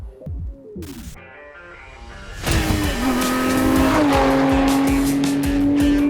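A 400bhp Lotus Emira prototype sports car revs up on a race track, its engine rising to a loud sustained roar with shifting pitch, close and continuous.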